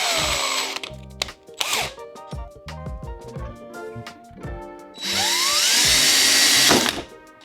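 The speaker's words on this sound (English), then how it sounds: "create the pilot hole so you know exactly where to drill this through the body panel and out the other side" A power drill bores a pilot hole through a Subaru Crosstrek or Impreza rear gate body panel, whining in several short bursts and then one longer sustained run, loud and close with no talking.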